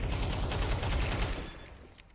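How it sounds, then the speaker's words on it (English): Rapid automatic AK rifle fire from a Counter-Strike match, a dense, loud burst of shots lasting over a second before trailing off into quieter game ambience. "Mariska's AK is actually going to follow up."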